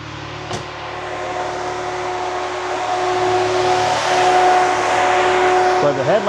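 A BMW E60 engine idles roughly, running continuously with a steady, uneven hum and a faint high whine, ending in a brief rattle near the end.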